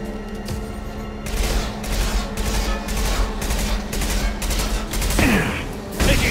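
Sustained automatic gunfire from a Mass Effect 2 firefight, a dense continuous fusillade of rapid shots with heavy booms, loud and close throughout.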